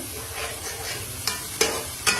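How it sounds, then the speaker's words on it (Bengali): Steady sizzling of fish frying in hot oil, with a few sharp crackles and spatters breaking through toward the end. "এখানে মাছটা ভাজা হচ্ছে"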